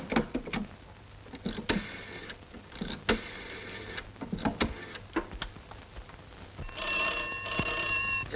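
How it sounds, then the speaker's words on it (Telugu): A telephone rings in an old classic Telugu film, sounding in several bright, bell-like bursts, the last one longest and loudest, with clicks and faint room noise between them. "రే, ప్లేడర్ నర్సింహ ఇంటికి రింగ్ చేసి నాకు కనెక్షన్ రా."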